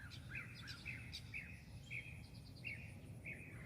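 Birds sing from a nearby tree in a repeated series of short, bright chirps and whistled phrases, several calls in steady rhythm over a soft background hum, with no talking.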